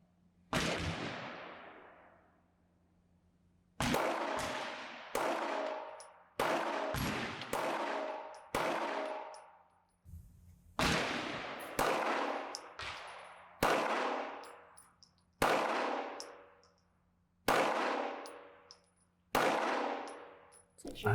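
A Stoeger STR9c 9mm pistol fires about fourteen loud, sharp outdoor shots, each ringing out with a long decaying echo, spaced irregularly at roughly one to two second intervals.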